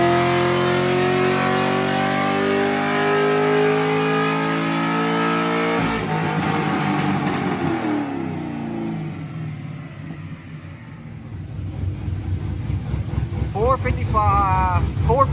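A cammed Chevrolet Corvette C6 V8 revs hard on a dyno, a loud, steady high-rpm roar that drops into a lower, lumpy rumble as it winds down, with a voice speaking briefly near the end.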